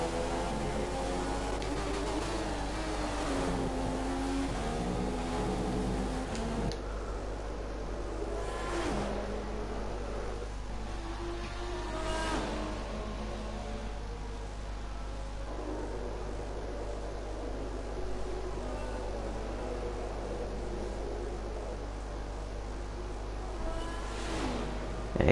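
Formula 1 cars in a racing video game at Monza drone steadily with a high engine whine, with a few faint rising revs under a constant hum and low background noise.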